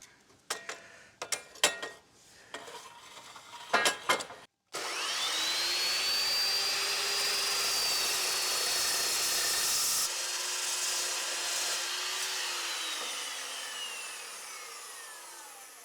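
After some clanks and knocks, a power saw cuts 1-inch Schedule 40 steel pipe for a fence brace, whining loud and steady for about ten seconds while the pitch drifts and then fades as the cut finishes.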